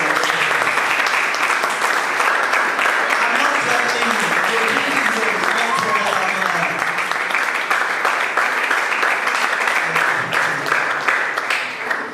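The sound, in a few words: audience clapping at conference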